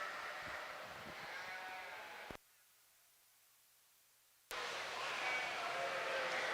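Sheep bleating at a junior breeding sheep show at NAILE 2024, with faint calls in a noisy show ring that cuts to near silence midway, then the ring noise returns.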